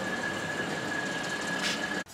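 A regional train at Kraków's station gives a steady rail hum with a thin squealing whine throughout, then a brief swell and a sudden drop at the end.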